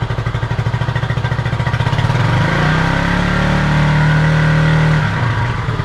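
A Honda CB250RS motorcycle engine running at idle, a loud, close, steady low throb with a rapid even pulse that settles slightly lower partway through, with no voices.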